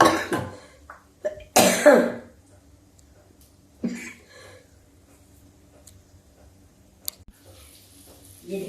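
A few harsh, close coughs burst out near the start, followed by quieter throat sounds and faint clicks in a mostly still room.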